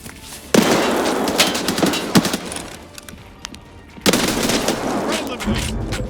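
A frag grenade explodes in an Escape from Tarkov Labs raid, two loud blasts set apart by bursts of gunfire and clattering shots, with a voice talking over parts of the action.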